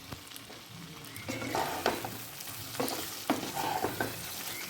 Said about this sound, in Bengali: এবার আমি এর মধ্যে যে আলুগুলোকে ভেজে রেখেছিলাম সেটা অ্যাড করে দেব।